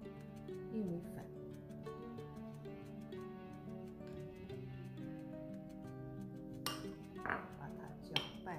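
Corn flour mixture being stirred in a bowl while making crispy corn cakes: light, occasional clinks of utensil on dish, with a few sharper taps near the end over a soft steady background and a voice.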